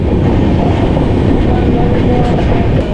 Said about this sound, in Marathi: गाडी आली आता खेड रेल्वे स्टेशनमध्ये